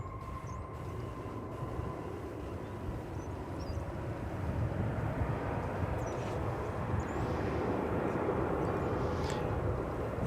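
A jet airliner roars through its takeoff run at DFW Airport, a broad, steady engine rumble that swells slightly louder over the stretch, heard from a distance outdoors with no talk.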